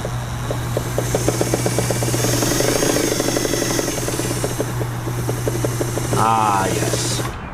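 A Kenmore 50 sewing machine motor runs after oiling, giving a steady hum with a fast, even needle clatter, close and constant, and a short whirring change near the end.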